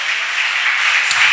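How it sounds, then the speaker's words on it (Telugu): An audience claps loudly in a dense, even burst that lasts only a moment, at a gathering near a potter's house. "గట్టిగా చప్పట్లు కొడదామా"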